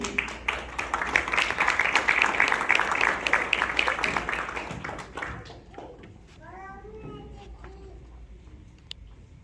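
A school assembly crowd claps for a new safety patrol officer, a dense burst of applause filling the first five seconds before fading into scattered claps and a voice.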